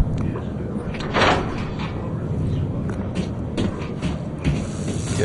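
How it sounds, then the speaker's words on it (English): In a hospital-set video game, a door is unlocked with a key, making a mechanical clunk that is mostly buried under loud gameplay noise and someone talking throughout. "We'll unlock this here door with that key."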